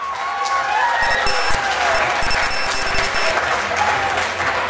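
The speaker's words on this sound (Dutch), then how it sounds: "wil ik toch wel een heel groot applaus voor onze juryleden van vanavond" Crowd claps loudly for the jury at a youth playback show prize ceremony in De Wilp, dense applause mixed with a few cheers and sharp thumps, with a voice talking faintly underneath.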